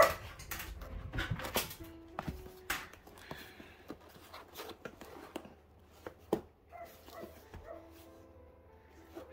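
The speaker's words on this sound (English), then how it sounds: "Oh, there goes the dog." A dog yips and whimpers indoors in short, scattered bursts close by, mixed with rustling and handling noises.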